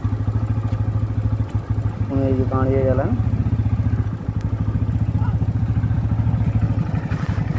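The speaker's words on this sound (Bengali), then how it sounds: "এই দেখুন একটা বাইক আসছে সামনে থেকে" On a narrow railway bridge, a motorcycle approaches with a steady, close engine drone that continues throughout, mixed with the rider's own bike engine while people talk.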